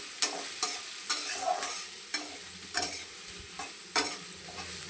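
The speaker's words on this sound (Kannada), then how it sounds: "ಈರುಳ್ಳಿ ಚೆನ್ನಾಗಿ ಕಲರ್ ಚೇಂಜ್ ಆಗೋವರೆಗೂ ಚೆನ್ನಾಗೆ ಫ್ರೈ ಮಾಡ್ಕೊಬೇಕು" Onions fry in a pan for a tomato gravy, heard as quiet frying with regular scraping strokes of a spatula stirring against the pan, close by.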